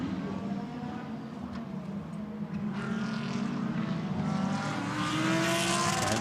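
GT race cars, Lamborghinis including a Gallardo and Ferraris, race at the Barcelona circuit, their engines a steady, fairly distant roar that rises and swells as cars pass.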